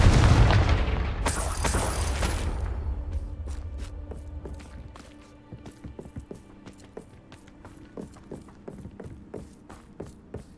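A Confringo fire spell explodes in Hogwarts Legacy as a loud, close boom with a roaring burst, then fades into rumbling debris and a run of lighter clatters and footsteps.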